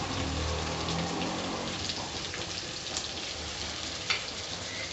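Chopped onion sautés in a pan for Chettinad crab gravy, giving off a steady, close sizzle with fine crackling pops and an occasional faint stirring scrape.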